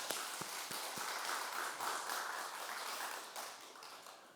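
A church congregation applauds together during a Sunday service at Jangsaengpo Church. Broad, steady clapping fills the room, with a few sharper claps at the start and no talk over it.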